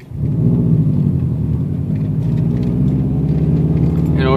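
Manual car pulling away in first gear: a loud, steady low engine rumble rising slightly as the car moves off, heard from inside the cabin with no talking.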